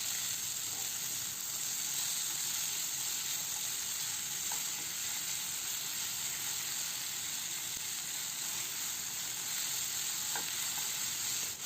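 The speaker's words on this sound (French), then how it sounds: "Je vais faire revenir les oignons avec poivron vert." Onions and green pepper fry in a pan with a steady, even sizzle that holds for several seconds at moderate level, with faint occasional ticks and no voices.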